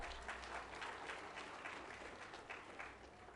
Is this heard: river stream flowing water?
no